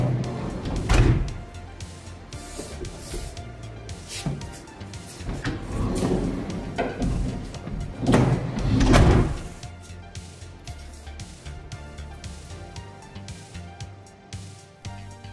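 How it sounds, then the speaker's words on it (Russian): Sliding door on a Sobol NN van opening and closing, several distinct rolling thuds and clunks with quieter mechanical sliding between them, close by. "Сценарий использования данного автомобиля подразумевает частое открытие-закрытие сдвижной двери."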